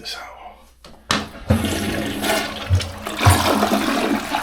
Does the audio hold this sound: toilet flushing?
yes